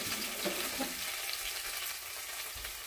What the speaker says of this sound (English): you're just gonna cook out that curry and let it cook so it doesn't come out grainy